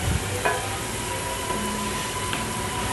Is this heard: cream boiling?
yes